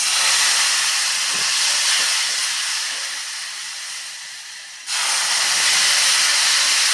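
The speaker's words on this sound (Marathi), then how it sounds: "आता हे गुळाचं पाणी थोडं थोडं करत आपल्याला या रव्यामध्ये घालायचं आहे" Boiled jaggery water added little by little to roasting semolina for a moong dal sheera sets off a loud, close, steady hiss that fades slowly, then jumps back sharply as more liquid goes in, with no talking.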